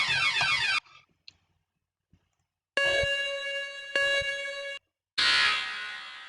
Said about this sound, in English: Blast door alarm